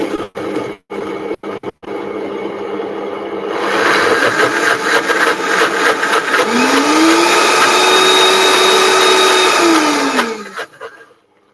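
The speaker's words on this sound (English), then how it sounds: "And then I'm going to blend and see how creamy I can get this." Blender whirring through milk, starting after a few short taps and clicks, then a loud steady motor drone with a pitch that rises and falls before cutting off.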